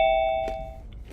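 Doorbell ding-dong, a clear two-tone chime followed by a fainter knock-like thud, loud and close with no talking.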